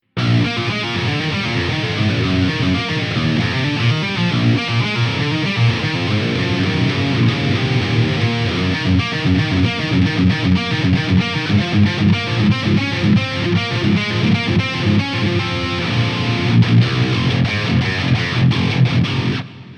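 A heavily distorted electric guitar with a Mesa Boogie Mark series style tone plays continuously, its notes smeared by echoing delay repeats and a wide studio reverb wash, loud and full throughout.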